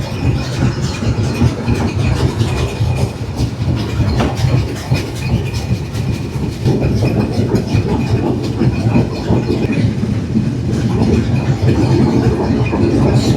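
Chitra Express passenger train running steadily, heard from onboard in a carriage: a continuous loud low rumble with rhythmic wheel clatter throughout, no talk.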